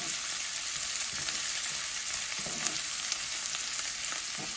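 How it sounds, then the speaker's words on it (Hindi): Onions added to browned garlic fry in a pan, a steady dense crackling sizzle with faint stirring scrapes, close and continuous without any talking. "लहसुन पूरी तरह से पक गया है। अब मैंने इसके अंदर ब्राउन करना है लहसुन। इसके अंदर मैंने प्याज मिला दिए।"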